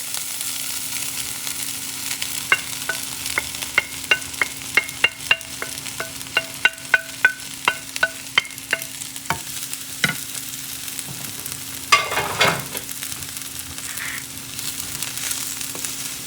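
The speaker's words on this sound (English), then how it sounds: "What you're doing is just cooking it into a couscous." Riced cauliflower is stirred and cooked into couscous in a pan, giving a steady soft sizzle broken by a run of sharp, regular utensil scrapes and taps against the pan, close and clear with no talking.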